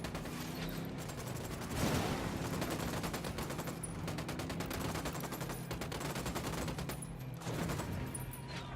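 Rapid automatic gunfire rattles almost continuously in Ghost Recon Wildlands, dense bursts of shots with mechanical clatter and brief swells, no speech over it.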